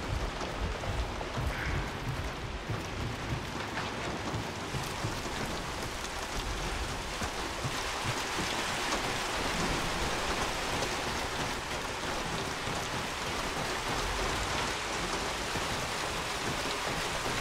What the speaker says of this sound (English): Man, the rain.